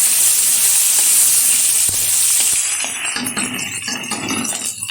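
Tomato pieces and whole cumin seeds hit hot oil in a pan, a loud bright sizzle and hiss that starts strong, then settles into a softer crackling spatter with a few light clinks.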